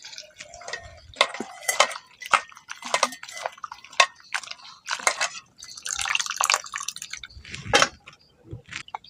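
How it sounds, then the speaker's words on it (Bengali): Washed mushrooms drain in a close, irregular patter of drips and trickles, with small splashes and light knocks scattered throughout and no speech. "ছাতুটা ভালো করে ধুয়ে কিন্তু জলটা ঝরিয়ে নিতে হবে যাতে না ছাতুর মধ্যে জল থাকে"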